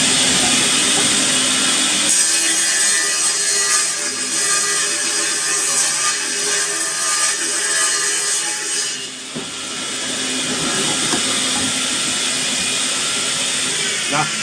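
A power saw cuts wood for a jeweller's workbench, running as a loud continuous whine that shifts in pitch partway through, with someone talking over it.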